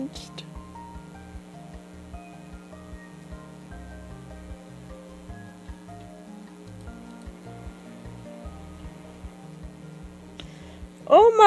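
Constant heavy rain pattering on a surface, fairly quiet and even, before a voice briefly cuts in at the very end.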